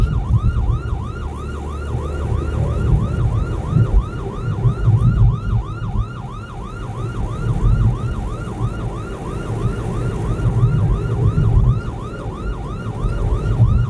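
An ambulance siren wails on and on in a fast rising and falling pattern while the vehicle moves through congested traffic where riders come the wrong way, loud throughout above a thick wash of engines and road noise.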